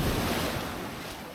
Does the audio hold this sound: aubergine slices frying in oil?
no